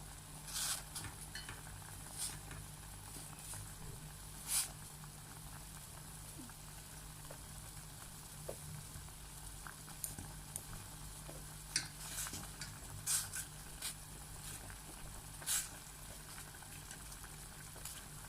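Paksiw fish stew, fish simmered in a pot, stirred at a boil: faint bubbling with soft, scattered clinks and scrapes of the spoon against the pot, quiet and close throughout.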